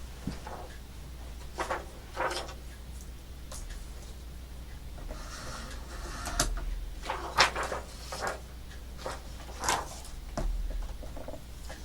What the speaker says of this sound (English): I'm going to cut the inch wide here first, so I'm not cutting this short all the way across.